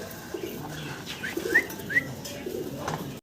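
Pigeons coo in soft, low, repeated murmurs close by, with a couple of faint higher chirps and light background noise.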